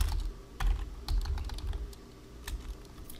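Typing on a computer keyboard, a quiet run of irregular clicks and taps at close range with no talk over them.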